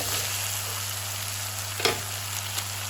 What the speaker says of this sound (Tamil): தக்காளி வதங்கிட்டு வந்து நண்டு வச்சு வச்சு நண்டை போடுவோம்